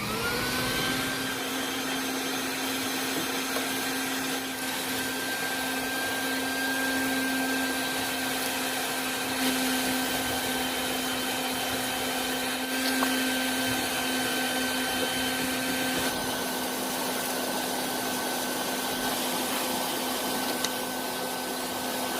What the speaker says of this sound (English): So what I'm gonna do is I'm gonna vacuum out this burner section, just get all the dust and crap out of there